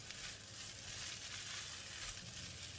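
Prawns stirred into fried rice in a hot pan, a steady soft sizzle with faint scraping, quiet and close, no talking.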